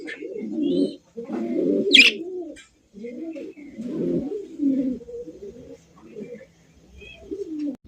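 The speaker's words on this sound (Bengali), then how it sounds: "এখানে বামে যেটা আছে ভাই, এটা কি সেই এক জোড়া ওরিয়েন্টাল কবুতর" A pair of Oriental pigeons coo in repeated low, throaty phrases close by, with brief pauses between bursts and one sharp higher chirp.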